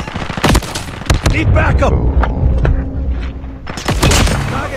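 Rapid gunfire in a multiplayer shooter video game, loud bursts of automatic shots and booms crowding the whole stretch, with voices shouting over the action.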